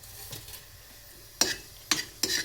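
Peppercorns, cumin and coriander seeds stirred in hot oil, heard as a soft sizzle with three sharp scraping stirs near the end, close and fairly quiet with no talk.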